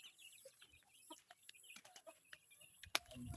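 Scattered soft clucks from a chicken amid quiet outdoor rustling, with a sharp click near the end.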